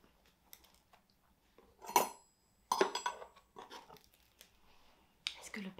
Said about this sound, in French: je pense que je vais couper cette tartine de pain.